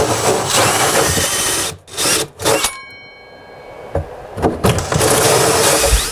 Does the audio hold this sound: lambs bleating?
no